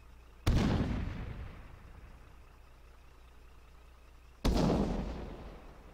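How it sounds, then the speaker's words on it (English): Two heavy grenade blasts boom in a video game, each a sharp loud impact followed by a long rumbling decay, spaced about four seconds apart. "Grenade."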